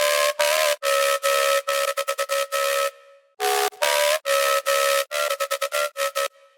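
A bright, buzzy synthesizer lead plays a choppy run of staccato notes with short gaps and a few sustained tones, loud and upfront.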